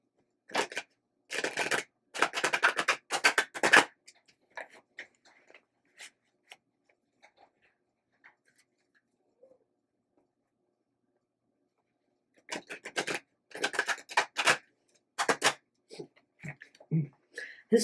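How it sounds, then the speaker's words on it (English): A deck of cards is shuffled on a table in two clusters of quick, crisp riffling flutters, close and fairly loud, separated by a long near-silent pause with only faint small clicks. "This is the deck that I can't shuffle on this table."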